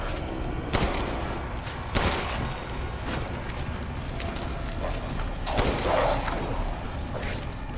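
Loud gunfire bursts in the video game Resident Evil Village, several shots spaced irregularly over a dense, noisy background of effects.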